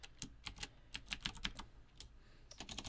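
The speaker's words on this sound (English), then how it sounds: "and then we can type in" Typing code on a computer keyboard: quick, irregular clicking keystrokes in short runs with a brief pause, close but quiet.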